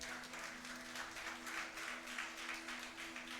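Faint, distant applause from a church congregation during a service, even clapping spread through the hall under a steady low hum.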